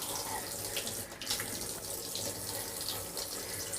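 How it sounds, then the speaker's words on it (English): Cold tap water runs steadily from a faucet over fingers at a sink, a continuous close splashing hiss with no talking. "I'm just going to run my fingers under cold water"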